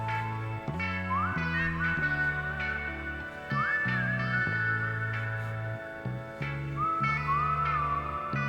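Melodic whistling rises and glides over a piano and bass backing in a song, the whistled phrases returning a few times at moderate loudness above the music.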